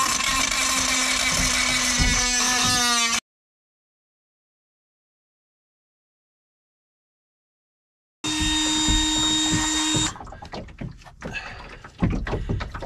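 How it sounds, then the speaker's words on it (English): A power sander smooths a freshly cut edge of fiberglass on a Drascombe Lugger boat deck, loud rough grinding in two bursts separated by a silent gap, the second burst ending in scattered clatter and handling noises. "So we've now got a little sanding piece on, just to make this a little bit honest."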